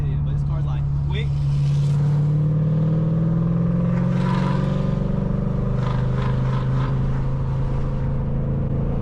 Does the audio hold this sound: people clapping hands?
no